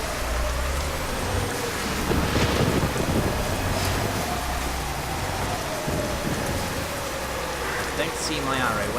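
Steady rain falls in the Euro Truck Simulator 2 driving game, a constant dense hiss over low engine rumble lasting throughout, with faint distant rolling like thunder and a voice talking over it.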